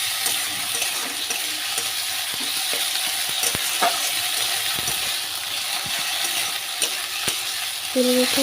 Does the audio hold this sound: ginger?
yes